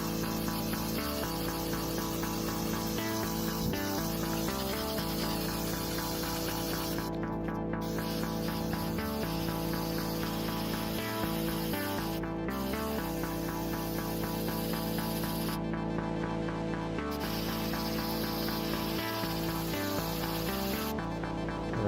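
Aerosol spray can hissing paint stripper onto a B16A valve cover, a steady continuous spray lasting throughout with short breaks, close and fairly loud with no talking.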